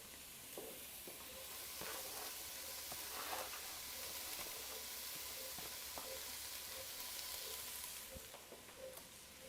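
Enoki mushrooms sizzle and fry steadily in a hot pan alongside button mushrooms, with a constant crackling hiss and occasional soft stirring clicks, close and continuous without talk.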